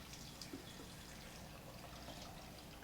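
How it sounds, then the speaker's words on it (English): Water is poured into an Instant Pot, a faint, continuous trickle and splash heard alone at low level for a few seconds. "And I'm going to add some water."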